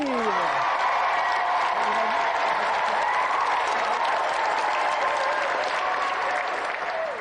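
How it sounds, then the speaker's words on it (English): A television studio audience at a video game show breaks into sustained applause, dense clapping filling the room for several seconds, steady and loud, with a few whoops and cheers. "let's give another round of applause for Emily and Michael Glebe"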